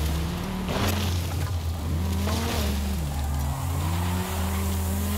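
A 1999 Dodge Viper GTS ACR in Forza Horizon 5 pulls hard under steady throttle, its deep engine drone loud and continuous, with pitch climbing and dropping through several gear changes.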